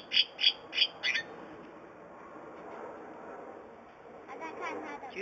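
Four sharp, evenly spaced squawks from a small bird open the clip, fairly close and loud, then give way to quiet background noise with faint chatter returning near the end.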